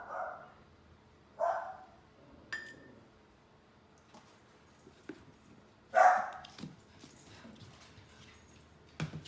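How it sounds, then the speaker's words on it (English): A pet dog in a home kitchen gives a few sharp barks and high whimpers, spaced out over several seconds with quiet gaps between them, heard at moderate distance. "There's my dog, as you can hear her."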